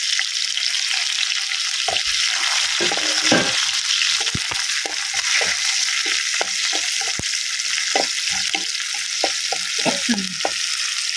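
Sliced onions frying in a pan with curry leaves for a home-style Kerala raw mango curry, a steady close sizzle broken by repeated scraping stirs, with no talk over it.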